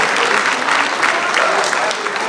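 Warm applause from the audience at a book launch event for footballer Asamoah Gyan, a dense, steady clapping that fills the room at full volume without a break, with speech-like crowd noise mixed in.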